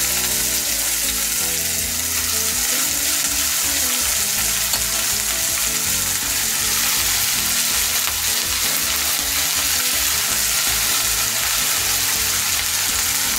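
Tomatoes, green chilies and brinjal frying in a pan, a loud, dense, unbroken sizzle with faint stirring, close up and steady throughout, with no one speaking.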